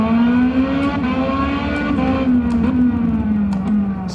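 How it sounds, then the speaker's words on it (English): A race car lapping the Hungaroring circuit holds a loud steady engine drone from inside, its pitch rising and falling slightly through the corners, with no talk over it. "we're going to get ready to start a fast lap of this Hungary Ring circuit"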